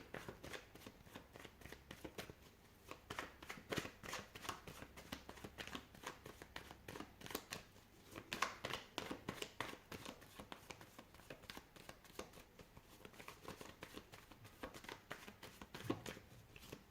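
Tarot cards are shuffled continuously and close up for the whole stretch, a steady papery riffling and flapping at a quiet, even level with no talking.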